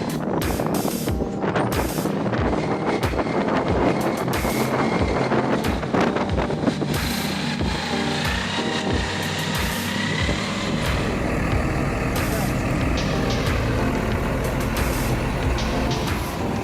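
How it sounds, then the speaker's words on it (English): A 375-horsepower John Deere tractor engine roars loudly and continuously in deep mud on a farm as the wheels slide, with heavy wind buffeting the microphone throughout and no talking. "The 375 horsepower engine roared loudly, the wheels slid in the mud."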